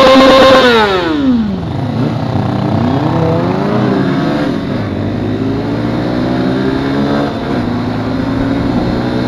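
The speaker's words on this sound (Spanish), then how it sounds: "vamos a ver qué tal despega contra esas tres hermosuras de motos" A Honda CB 190R motorcycle with an air-cooled 189.8 cc engine accelerating hard, its loud engine note climbing through rising sweeps as it shifts up through the gears.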